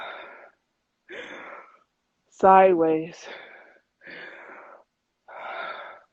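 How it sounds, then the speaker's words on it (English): Deep diaphragm breathing demonstration: a series of slow, audible breaths, each a separate airy rush with pauses between, close and clear, with one short spoken word in the middle. "We're breathing like this through our stomach."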